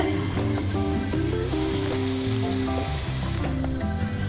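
Fish biryani masala sizzles loudly in a pot while being gently stirred, a close, dense frying hiss running continuously with faint scraping of the stirring.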